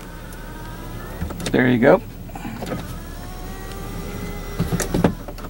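The electric rear privacy curtain of a Buick LaCrosse CXL moves with a brief motor whir, with light clicks and a short spoken remark around it.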